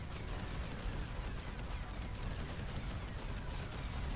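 Cannon towers fire in the video game Emberward, a dense, continuous barrage of rapid booming shots that layer into a rough, rumbling wash with no pauses and no talking.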